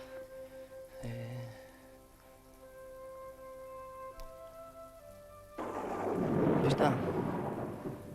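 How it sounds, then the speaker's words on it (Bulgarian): A thunderstorm with rain falling steadily, a soft voice speaking briefly, then a loud, long rumble of thunder rolling in and swelling near the end. "Ама здрав гърми, а?"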